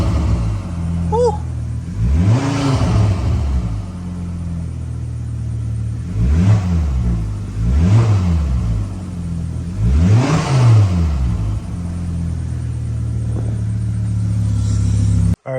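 A Volvo S40 T5 with a Turbo Smart blow-off valve revs repeatedly, several rising and falling engine sweeps with a brief hiss as the throttle is released, fairly loud and close, without speech.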